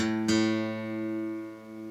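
Two guitar strings ring out of tune after a sharp pluck, their sustained tones beating against each other in a slow, steady wobble that fades gradually, heard alone without any talk.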